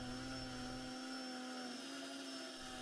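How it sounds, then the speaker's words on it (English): A drill spins a cap while a rat tail file grinds an O-ring groove into it, giving a steady, loud, continuous whine with a constant motor tone and a rough scraping hiss throughout, with no talk. "grind a ring as the drill spins."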